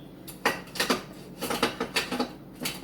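A spoon stirs a thick honey and brown sugar body scrub in a bowl, giving a quick, uneven run of close clinks and scrapes with short pauses between strokes.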